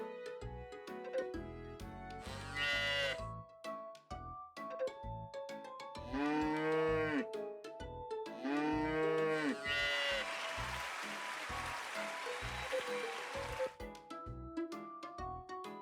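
Game cow in Friends of Mineral Town mooing over and over at a festival, drawn-out bellowing calls set against bright jingly game music and chimes, fairly loud, with no talking.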